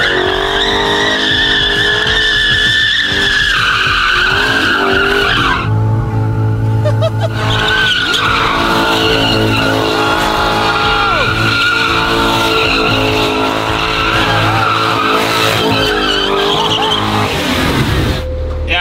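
Car tires skid and squeal loudly and continuously at close range for the whole stretch, with an engine revving beneath and people talking over it.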